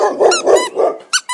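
A cartoon dog gives a run of three gruff barks and then two short yips, loud and close, in an alphabet phonics song for children.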